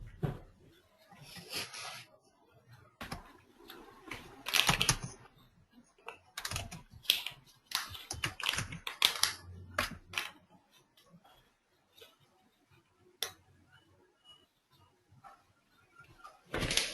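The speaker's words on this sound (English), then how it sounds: "Somebody is hitting the keyboard really hard." Someone hammering hard on a computer keyboard during an online class session, a rapid, uneven stream of sharp key clacks in bursts with short pauses, fairly close and loud against a quiet background.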